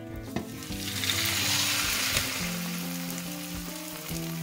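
Egg and potato Spanish tortilla sizzling steadily in a frying pan after being flipped back in, a continuous close frying hiss with faint clinks of a spatula, no talking.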